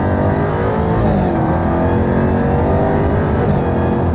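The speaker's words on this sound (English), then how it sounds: "you can hear the whine of the supercharger as well" A supercharged Jaguar Project 8 engine roaring hard under acceleration after a downshift to second, loud and close, with a steady high supercharger whine running over the rumble throughout.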